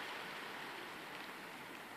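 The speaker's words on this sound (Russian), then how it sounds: "и гляньте, дождь пошел" Rain starting to fall on a beach, a steady, even hiss of drops spread across the surface, soft and continuous with no voices.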